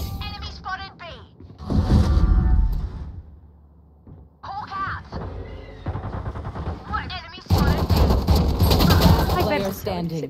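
Gunfire in the Valorant video game, with bursts of sharp shots and rapid fire mixed with game effects, while a player talks over the action.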